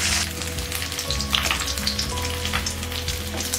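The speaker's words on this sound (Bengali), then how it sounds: "মাথাটা ভাজা হয়ে গেছে, এবারে এটা আমি তুলে নিচ্ছি।" A fish head fries in hot oil, giving a steady, close crackling sizzle that runs unbroken for a few seconds with no voices.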